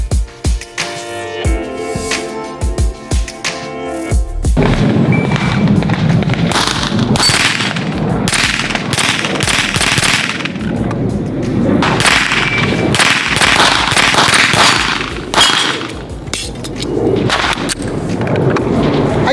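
Handgun shots fired at a range in rapid succession, each a sharp loud crack, with a quieter metallic stretch before the string begins.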